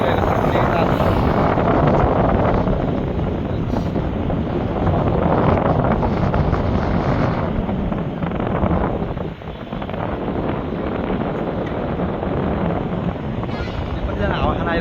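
Strong evening wind buffets the microphone at Mugling beside the Trishuli river, a loud, continuous roaring rush that swells and eases throughout, with voices faintly underneath.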